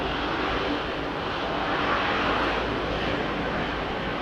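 A Boeing 777 powered by Rolls-Royce Trent 800 engines departs Heathrow Airport with a steady, distant-sounding jet roar, broad and even, swelling slightly midway, with no talk.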